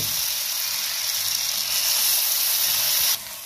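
Batter for Gola Ruti sizzles on a hot, oil-brushed tawa griddle, a loud, steady hiss that holds for about three seconds and then drops away abruptly.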